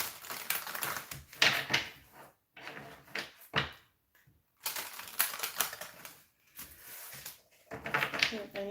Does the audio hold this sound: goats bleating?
no